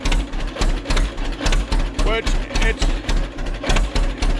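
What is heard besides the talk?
tractor engine running with straight pipe exhaust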